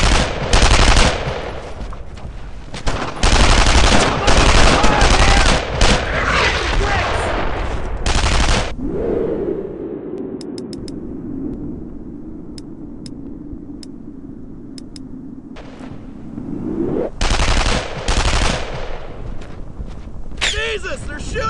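Rapid machine-gun bursts and rifle shots crackle loudly in the World War II shooter Brothers in Arms: Earned in Blood, falling into a lull of low rumble before another burst of fire, with voices shouting amid the battle.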